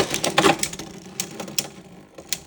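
Beyblade tops Dynamite Belial and Hell Salamander ripped from their launchers into a stadium: a loud rattling whir at launch, then scattered clacks and light ticking as they spin and collide, fading toward the end.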